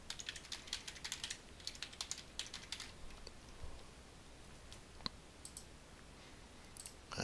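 Computer keyboard typing while MySQL is installed on Windows: quick bursts of close, crisp key clicks in the first few seconds, then sparser isolated taps against quiet room tone, no voices.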